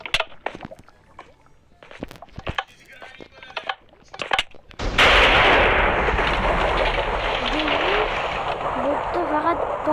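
Explosions and blasts in a parkour video game: scattered sharp bursts give way to a sustained loud roaring rumble, with a voice talking faintly at points.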